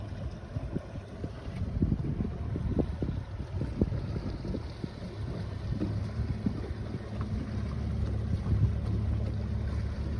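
A motorboat runs on a four-blade stainless steel propeller, 13 1/4 inches with a 16 pitch, its low engine rumble and water churn steady beneath heavy wind buffeting on the microphone, with no voices.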